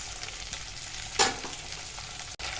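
Chicken pieces with chopped green chili sizzle in a hot pan while being stirred, a dense steady frying hiss broken by one loud scraping stroke midway and a brief pause near the end, heard close with no talking.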